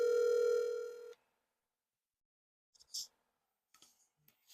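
A phone call from a mobile phone rings out with a steady electronic tone that cuts off abruptly, followed by silence and a few faint clicks as the line connects to voicemail.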